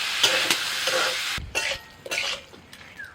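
Potatoes tossed with spices, salt, turmeric and chopped tomato sizzle in a pan while a spoon stirs in quick, close scraping bursts with brief pauses between them.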